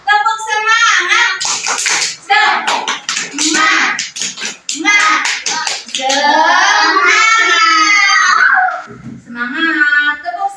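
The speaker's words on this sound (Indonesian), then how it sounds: "Kita tepuk dulu semangat ya." Children in a classroom clap in short rhythmic bursts as part of a group clapping routine, with loud chanting and calling voices between and over the claps, close by.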